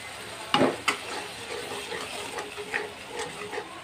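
A spiced masala with chicken and new potatoes fries in a pan, its soft sizzle broken by a few scraping stirs of the spoon, close and moderately quiet.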